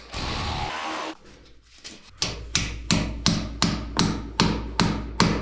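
A loud hiss cuts off, then a steady series of sharp metallic hammer strikes lands at an even pace, close by, while fixing a drywall ceiling.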